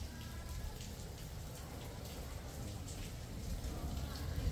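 Light rain falls steadily outside a canteen at a highland resort, a soft continuous patter of drops that stays faint and even throughout.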